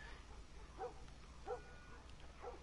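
A dog in The Last of Us Part 1 gives three faint, distant barks spaced evenly apart, heard over low background rumble.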